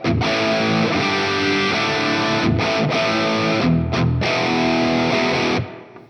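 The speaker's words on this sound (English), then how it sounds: "So let's switch the reverb on. And let's choose a hall." A distorted electric guitar through a Valeton GP-5 plays chords and riffs in a big hall reverb, loud and continuous, with a few brief pauses before ringing out at the end.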